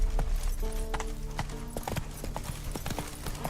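Geralt's horse Roach gallops in The Witcher 3, hooves pounding in a quick, steady, close rhythm over a dense bed of game ambience and music, with no talk over it.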